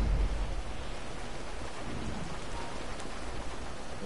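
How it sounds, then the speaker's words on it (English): Steady rain with rumbling thunder in the game GTA 5 Online fills the whole stretch as a dense, even wash of broadband noise, with no talk over it. "It's raining."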